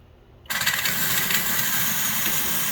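A ground fogger blasts fog through its nozzle into a homemade ice box chiller, bursting on abruptly after a brief quiet moment and then holding a loud, steady, engine-like roar with a hissing rush.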